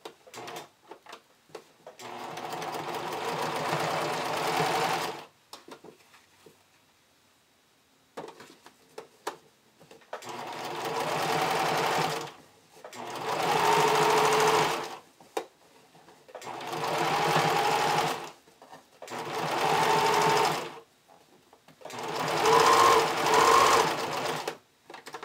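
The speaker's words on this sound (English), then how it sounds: "So I've just top stitched along that upper cup seam" Topstitching with a straight stitch along a swimsuit's upper cup seam, a sewing machine whirs in six loud, close bursts of several seconds each, separated by short quiet gaps.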